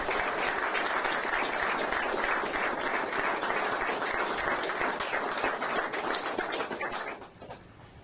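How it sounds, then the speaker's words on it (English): An audience applauds a police officer being introduced at a political rally, a dense sustained clapping that stays loud for several seconds before thinning out and fading at the end. "introduce everyone to Officer Mike Arengel, if you could give him a round of applause."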